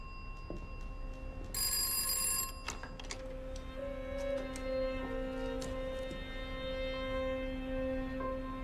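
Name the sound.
old telephone bell ringing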